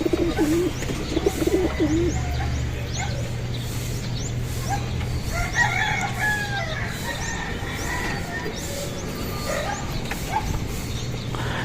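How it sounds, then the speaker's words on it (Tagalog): Pigeons coo softly inside a crowded coop of nesting birds, low steady murmuring under a constant background hum, with a few higher chirps and bird calls scattered through. "Chumichicha na mga kalapatids."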